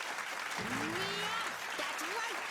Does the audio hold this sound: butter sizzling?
no